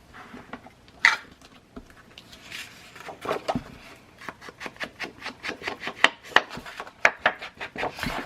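Paper is inked with Distress Oxide ink in Walnut Stain. Quick, close rubbing and dabbing strokes come in an uneven, rapid patter, with a few sharper taps.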